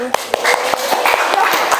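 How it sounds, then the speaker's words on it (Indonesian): A class claps hands in a steady, regular rhythm of crisp claps, about five per second, close by, with voices sounding underneath. "Tepuk tangan dulu."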